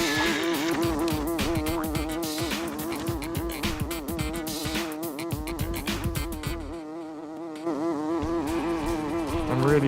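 Wasps in the 1999 PC game Earthworm Jim 3D give a dense, continuous insect buzz with a wavering pitch, loud and steady throughout, with no speech over it.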